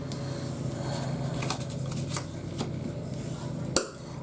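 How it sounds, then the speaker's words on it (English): Folded paper for a Cricut camera box is creased with a bone folder, heard as soft rubbing and scraping strokes close by, ending in a sharp tap. "Just go take my bone folder and just give that a really good crease."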